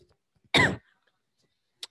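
A person gives a single harsh cough and clears their throat, close and loud. A faint short click follows in otherwise near silence.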